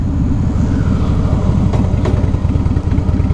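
Harley-Davidson Fat Boy motorcycle on a test ride, a loud, close, throbbing engine rumble with a steady pulsing beat.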